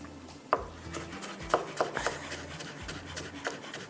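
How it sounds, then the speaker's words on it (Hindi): A knife taps unevenly on a cutting board chopping ginger, a handful of light chops scattered over a low background hum. "थोड़ी सी अदरक भी चॉप करके डाल देते हैं"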